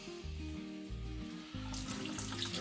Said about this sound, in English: I'm going to drain the green beans.